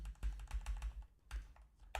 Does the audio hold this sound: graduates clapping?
no